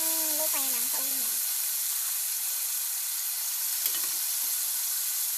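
Boiled pork ribs hiss and sizzle steadily in a hot pan, a bright, even sizzle that carries on throughout, with a voice speaking briefly at the start.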